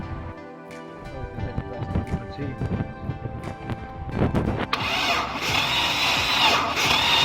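A car engine cranks slowly on the starter during a compression test of cylinders with a suspected bad head gasket, an uneven labored churning that shifts into a louder, hissier whir partway through.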